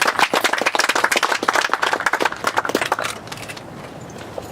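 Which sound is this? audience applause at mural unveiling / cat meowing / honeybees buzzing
audience applause at mural unveiling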